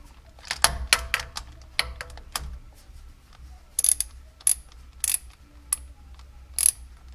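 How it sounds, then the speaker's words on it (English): A number 10 Allen wrench works the fill plug on a Toyota Tacoma with sharp metallic clicks and ratcheting ticks, irregular and close, over a low background rumble. "To take out the fill plug, I'm going to be using number 10 Allen."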